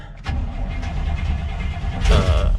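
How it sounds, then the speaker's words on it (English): On a chilly day, a 1983 Toyota 4Runner engine cranks briefly and catches, settling into a rough, rumbling idle up close, with a louder rev near the end. "Little chilly, 3 pumps of the pedal, and she fires right up."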